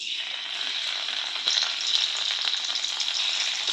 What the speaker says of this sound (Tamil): பன்னீரை ஃப்ரை பண்ண போறோம்